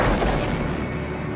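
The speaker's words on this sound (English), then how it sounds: "they are jolted with a series of deafening explosions." A series of deafening explosions during a flyby over Haiphong Harbor, heard as a loud booming burst at the start that rolls on into a dense, continuous rumble with no speech.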